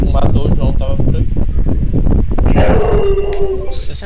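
A dog barks repeatedly in a rapid burst, loud and close, amid wind-like noise and overlapping voices talking.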